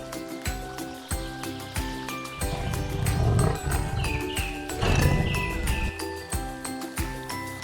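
Tiger roaring, a loud, rough growl that swells twice over bouncy jingling music, with no voices.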